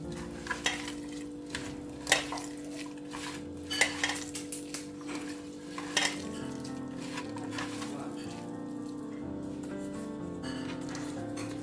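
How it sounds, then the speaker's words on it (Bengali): Fish being mixed by hand with mustard oil in a bowl, a soft wet squelching with scattered light clicks and knocks over a constant low background hum, no voices present. "দুই টেবিল চামচ পরিমাণ সরিষার তেল দিলাম আর একটু বেশি দিই তিন টেবিল চামচ পরিমাণ দিয়ে দিলাম এটাকে সুন্দর করে হাত দিয়ে মাখিয়ে নিতে হবে"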